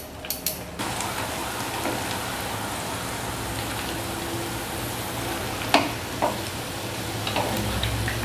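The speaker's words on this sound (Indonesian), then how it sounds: "Kita goreng sampai berwarna kecoklatan atau kekuning-kuningan." Sempol frying in hot oil until golden brown: a steady, dense sizzle throughout, broken by a few sharp clinks and pops of a utensil near the end.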